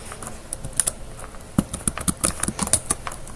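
A name is typed on a computer keyboard: a short run of crisp, uneven key clicks up close, with no one speaking.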